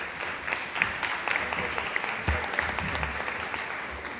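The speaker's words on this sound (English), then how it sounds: "A round of applause for this panel." A conference audience applauds a youth green jobs panel with steady, fairly close clapping that holds even throughout, a few sharper claps and low thumps standing out from the crowd.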